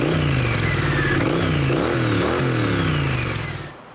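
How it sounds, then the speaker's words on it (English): A Triumph Street Twin 900 motorcycle with its stock stainless steel exhaust revs up close and loud, a husky, rumbling engine note climbing and dipping through several throttle blips before easing off at the end. "The sound of the stock stainless steel exhaust pipes actually sounds really good."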